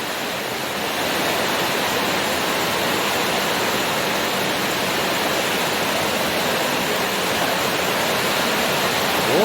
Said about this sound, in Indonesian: Ini hujan angin ini.